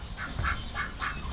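Several ducks quacking in repeated rhythmic bursts, close and fairly loud over a steady outdoor rumble, with no voices.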